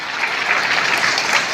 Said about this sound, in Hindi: प्रत्याशी आदरणीय विष्णुदत्त शर्मा जी का जोरदार तालियों से स्वागत करें।